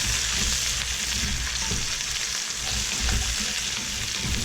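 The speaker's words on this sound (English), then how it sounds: "Stir these around a little bit." Onions and mushrooms frying in a pot for pork miso soup (tonjiru), a loud steady sizzle with stirring clatter, close and continuous.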